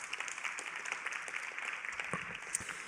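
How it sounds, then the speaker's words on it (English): An audience applauds at a high-level meeting on loneliness, a faint, steady patter of many hands clapping in a large room for a few seconds. "A big applause to Anders Ekholm."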